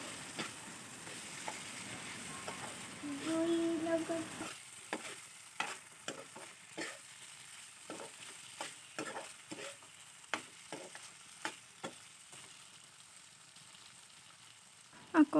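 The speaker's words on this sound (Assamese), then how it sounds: "আকৌ অকণমান দেৰি এনেকৈ লৰাই ভাজি" Spring onion stalks are stir-fried in a pan for an Assamese fish curry, with a soft steady sizzle and a rhythmic series of sharp spatula scrapes and taps against the pan.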